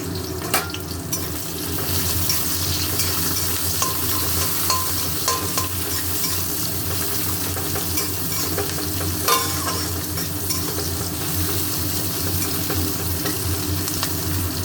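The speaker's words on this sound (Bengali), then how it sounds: "পেঁয়াজটা ভালো করে ভেজে নেব" Onions fry in hot oil with a loud, continuous crackling sizzle that lasts throughout, with occasional stirring scrapes and no speech.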